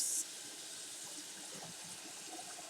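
Hot tap water gushes steadily into a big pot being filled for pasta, a constant broadband rushing heard close with no talking over it.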